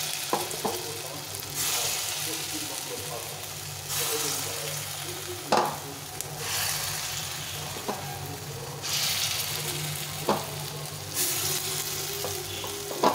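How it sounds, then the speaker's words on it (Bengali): Gandha leaf fritters (bora) deep frying in oil, a constant bubbling sizzle swelling and easing in waves, punctuated by several sharp clinks of a utensil against the pan. "আর একবার করে এই বড়াগুলো ভেজে নেব। একটু বড় বড় করে ভেজে নিতে হবে।"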